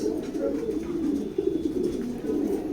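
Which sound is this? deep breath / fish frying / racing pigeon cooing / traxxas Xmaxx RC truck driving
racing pigeon cooing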